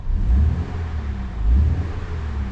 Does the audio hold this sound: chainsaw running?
no